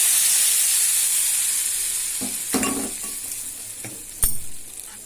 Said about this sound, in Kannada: ಒಗ್ಗರಣೆ ಮೇಲೆ ದಾಳಿ ಹಾಕಿ